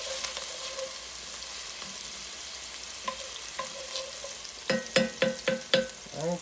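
Garlic fries in a pan for spaghetti meat sauce with a steady soft sizzle, then scraping stirs come in, ending in a quick run of five or six louder, rhythmic strokes near the end.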